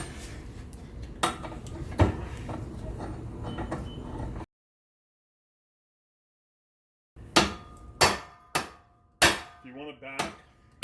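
A hammer pounding a heated metal part, a run of sharp ringing metallic strikes and scraping, a stretch of silence, then several loud spaced blows that each ring out and decay.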